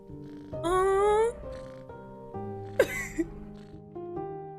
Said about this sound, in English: After a while I hear a small purr, then it gradually becomes clearer.